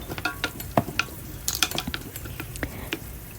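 Gizzards and livers for a gumbo cook on the stove: a low sizzle runs under scattered clinks and scrapes of a utensil against the pot, close and moderately loud, with no talking.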